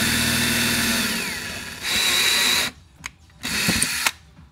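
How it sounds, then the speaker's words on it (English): A power drill bores through two stacked pieces of wood for a quarter-inch screw, running in a steady loud whine, pausing, then giving short bursts and a final run alone. "So we'll go ahead and just drill both of these together."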